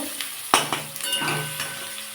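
Ginger and garlic paste hits hot oil in a pan with a sudden sizzle, then a spoon scrapes and stirs it through a steady frying crackle.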